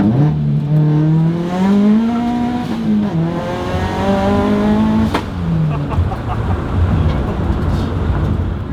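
A Subaru BRZ drift car's engine revs hard on a track, a loud, close, rising and falling howl that climbs through the gears, with a sharp burst near the middle and the engine easing off toward the end.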